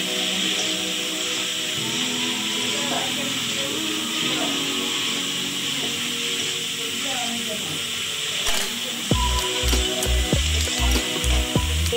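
Coriander leaf paste goes into sizzling spice masala for a pangas fish kaliya, with a steady hiss of frying throughout that shifts near the end as stirring knocks and a voice come in.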